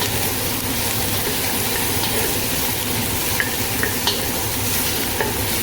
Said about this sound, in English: I'm gonna add the potatoes. Just gonna give it a stir